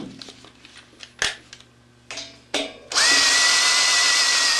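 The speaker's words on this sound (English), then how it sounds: "Have a number of DeWalt drills, and charge up the battery, go back and forth between them" A DeWalt cordless drill rolls copper tubes into a boiler, starting with short bursts and clicks, then running into a loud, continuous whine close by.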